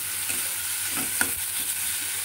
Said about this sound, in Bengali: আর এটাকে সমানে একটু কষাতে হবে।